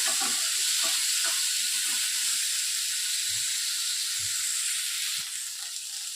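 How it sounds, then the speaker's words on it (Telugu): Chopped tomatoes fry in a pan with no added oil, giving a continuous soft sizzle and steamy hiss with a few faint low knocks, fading slightly toward the end. "ఇదే ప్యాన్లోనికి నేను కట్ చేసి పెట్టుకున్నటువంటి టమోటాలను వేసేసుకొని బాగా మెత్తగా ఫ్రై చేసేసుకోవాలి."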